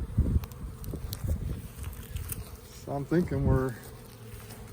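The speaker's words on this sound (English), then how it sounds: "if you just look out there, bees flying everywhere." Honey bees buzz steadily through the scene, a hum of bees flying about hives on pallets at a watermelon pollination site outdoors, with someone talking briefly over them.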